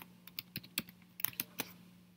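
Light, quiet typing on a computer keyboard, with about a dozen separate keystrokes tapped at an uneven pace over a low steady hum.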